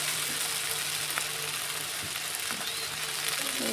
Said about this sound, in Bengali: মশলাগুলোকে ভালোভাবে কষিয়ে নিয়েছি